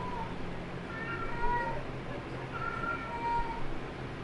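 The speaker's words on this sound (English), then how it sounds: "Meow, meow, meow" A loud cat in the video game Pyre gives two drawn-out meows over a dense, noisy background.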